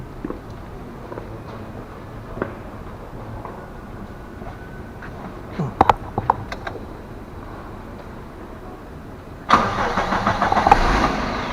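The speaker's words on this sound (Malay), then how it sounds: "and then kita hidupkan enjin kereta lah." A car engine starting during an automotive HVAC evacuation and charging job: quiet clicks and rattles, then an abrupt crank and catch near the end, settling into a steady running engine.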